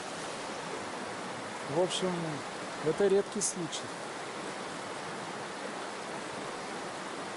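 The Kaizas river flows through snowy autumn countryside, a steady, even rush of water heard throughout while someone speaks briefly over it.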